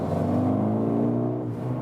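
A Mercedes-AMG GLB 35 4Matic SUV in Sport Plus mode gives off a steady, close exhaust and engine drone, holding at an even pitch throughout with no talking.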